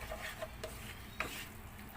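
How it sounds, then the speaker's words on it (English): Goan fish curry masala being stirred in a pan, a faint low sizzle with a few soft scrapes and light clicks of the spoon. "You have to stir it."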